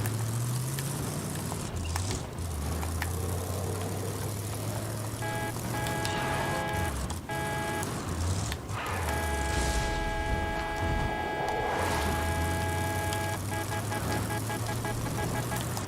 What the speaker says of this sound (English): Well, at least you can use a car.